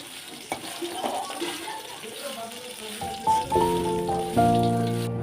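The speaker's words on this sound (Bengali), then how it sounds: "একটু কড়া করেই ভেজে নিচ্ছি।" Fish fried crisp in oil in a wok, giving a steady bubbling sizzle throughout, with clattering utensil knocks and a few ringing metallic tones near the end.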